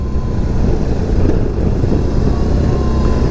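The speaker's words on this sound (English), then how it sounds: "Shakes a bit when you under rev it, but that's to be expected of a big 1800cc 2-cylinder engine" A BMW R 18 B bagger's big 1800cc two-cylinder engine rumbles at low revs, a deep, steady throb with some wind noise over it and no talking.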